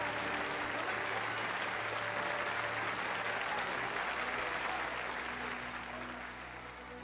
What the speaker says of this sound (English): Oh shoot, they're all clapping there.